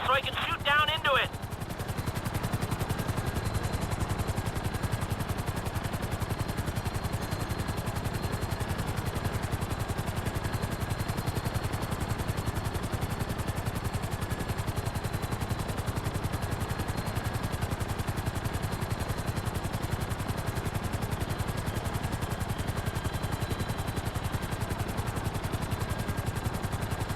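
A helicopter hovers in GTA V, its rotor and engine making a steady, loud, continuous drone that fills the whole stretch after a brief opening sound.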